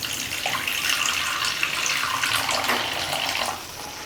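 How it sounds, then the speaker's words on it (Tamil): Water pours steadily into a pan of potato masala for several seconds, a continuous splashing stream that tapers off near the end. "இதில் நம்ம தேவையான அளவுக்கு தண்ணி சேர்த்துடலாம்."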